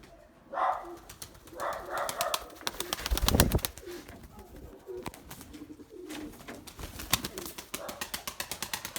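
Pigeons freed from a hawk flap their wings in flight, with soft cooing and a sharp flurry of wingbeats, then rhythmic rapid flapping near the end; someone speaks quietly in the background.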